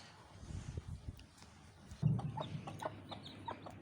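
Hens with newly hatched chicks on a small poultry farm, clucking in short scattered calls close by, with faint chirps and a busier burst of clucking partway through.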